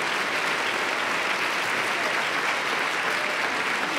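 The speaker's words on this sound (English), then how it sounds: "a robust, enthusiastic, stomp your feet, feel good. Round of applause for Ms. Sylvia Hurtado." Steady, dense applause from a full audience at a university diversity forum fills the whole stretch, loud and even with no voices over it.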